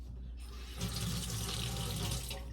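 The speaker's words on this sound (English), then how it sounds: "I need to rinse this one because I used it to pack the brown sugar." Kitchen tap water runs into a sink as a spatula coated in packed brown sugar is rinsed, a close splashing stream that swells after a quiet start and then cuts off.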